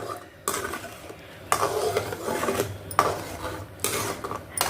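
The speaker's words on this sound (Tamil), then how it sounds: "பச்சரிசி மாவு போட்டு நல்லா வந்து கைவிடாமல் நம்ம கிளந்து எடுத்துக்கணும்" A spoon stirs and scrapes rice flour around a pot of boiling water in repeated rough strokes, with a faint bubbling underneath. No one speaks.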